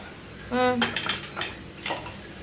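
Metal pressure cookers and steel kitchen vessels clank and clatter as they are handled in a home kitchen, with a sharp ringing knock followed by a few lighter scrapes and taps at close range.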